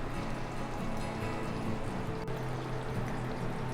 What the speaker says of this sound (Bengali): এখানে দিয়ে দিব কেওড়া জল 1/2 চামচ।